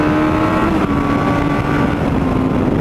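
A Suzuki GSXR K4 600 motorcycle engine roars loudly and steadily at high revs, a dense, continuous mechanical drone with no pauses and no talking over it.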